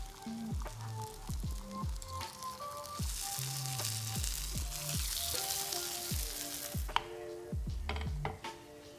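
Paniyaram frying in a paniyaram pan on the stove, with a steady oily sizzle running throughout and repeated sharp metallic taps and scrapes as a skewer flips the dumplings, close and fairly loud with no talking.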